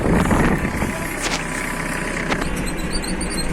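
An Iseki 48 Japanese tractor engine idles with a steady mid-pitched chug, running continuously through the whole stretch with some faint knocks and clatter, and a voice briefly audible over it.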